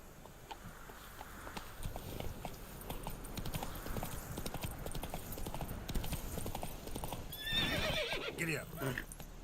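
Horse hooves clip-clop in a steady galloping rhythm in The Witcher 3 video game, with a horse's whinny near the end and talk over the hoofbeats.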